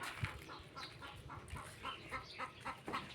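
A chicken clucks in short, repeated bursts at moderate distance, fairly quiet, with no talking over it.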